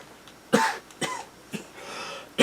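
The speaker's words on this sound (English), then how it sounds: "Just must be that cough acting up again" Several short, dry coughs from one person close by, four sharp bursts spaced roughly half a second apart with a brief throat-clearing rasp between them.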